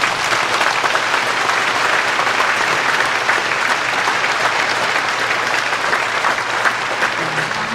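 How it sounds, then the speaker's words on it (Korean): Concert hall audience gives sustained loud applause for the New Seoul Philharmonic Orchestra and its conductor at an art-song concert, a dense, unbroken roar of many hands clapping. "큰 박수 부탁드리겠습니다"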